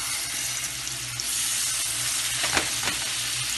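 Marinated chicken fries in a tablespoon of oil in a pan over medium-low heat, giving a soft, steady sizzle up close, with a couple of brief stirring scrapes and no talking.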